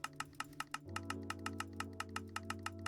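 Rapid, evenly spaced mouse clicks sound during a Minecraft modded sky island session, about a dozen sharp taps in steady rhythm over a steady background game hum, fairly close and clear.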